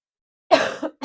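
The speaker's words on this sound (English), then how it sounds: "I apologize for my cough." A woman gives a single harsh cough, close and loud, trailing into a short rasp with a brief second catch at the end.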